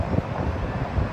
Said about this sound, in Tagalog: Sobrang hangin, oh.